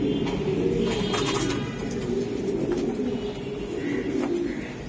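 Giribaz high-flying pigeons cooing steadily in a low, throaty rumble throughout, with some faint bird chatter above and a steady background hum.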